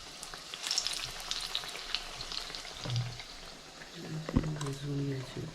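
Ajwain leaf fritters dredged in batter deep-fry in a pan of oil, giving a steady, crackling sizzle with bursts of bubbling. A few soft knocks and a low voice sit underneath it.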